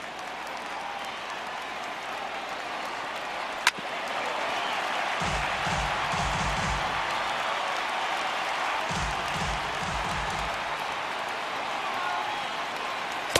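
A stadium crowd in the MLB The Show 18 baseball game rises into sustained cheering and applause after a sharp crack, a broad steady roar of about 21,000 fans, with faint low commentary bursts beneath.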